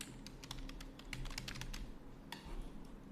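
Someone types a plugin name on a computer keyboard: a quick run of light key clicks in an uneven rhythm, close and fairly quiet, with a short pause before a final few taps.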